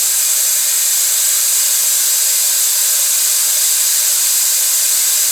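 A vacuum brake bleeder on a 5th-generation Subaru Outback hisses steadily during a brake fluid service, giving a loud, unbroken airy rush with no pauses.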